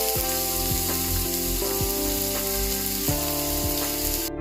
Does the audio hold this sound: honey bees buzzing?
no